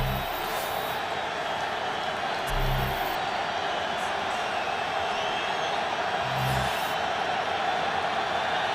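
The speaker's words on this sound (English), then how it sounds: "Crowd trying to help the defense on 3rd and long." A packed stadium crowd roars at a Broncos vs Chiefs football game on third and long, a dense, sustained wall of noise with a few brief swells, steady and loud the whole time.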